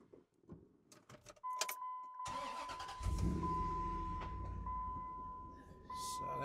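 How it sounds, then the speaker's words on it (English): A truck engine cranks and catches after a few faint clicks and rustles, then settles into a steady, loud idle with a high electronic tone running above it throughout. "So we'll go ahead and start this truck up."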